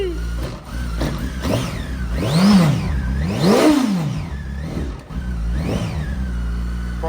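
A Hornet minitruck engine, just revived with starting fluid, runs loud and close, revving up and falling back repeatedly in rising and falling sweeps with a steady idle rumble between.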